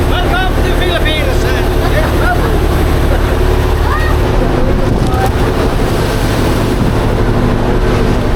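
A loud, droning engine of a large boat heading to Sumilon Island, Cebu, Philippines runs continuously with wind buffeting the microphone, while people talk over it nearby.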